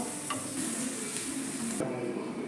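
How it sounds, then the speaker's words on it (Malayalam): An egg frying in a pan gives a continuous close sizzle, with light stirring and scraping against the pan over the bubbling. "നമ്മുടെ മുട്ട ഇങ്ങനെ പൊരിഞ്ഞുകൊണ്ടിരിക്കുന്നുണ്ട്"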